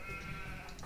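Sheep bleat in the real-time strategy game Age of Empires, heard as a brief, steady animal sound over a dense game soundscape of under a second.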